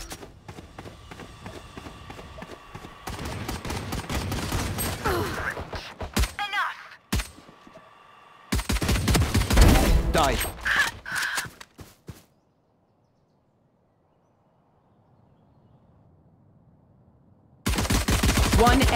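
Bursts of rapid gunfire from Valorant, loud and close, come in several clusters separated by brief pauses and a stretch of near silence before a final burst.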